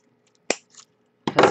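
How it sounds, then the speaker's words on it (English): Pliers cut through material for a Christmas stocking craft project, a sharp single snip followed by a faint scrape and then a louder crunching cut, close up. "I know I can do it with the Tim Holtz scissors, but I'm just going to use my pliers"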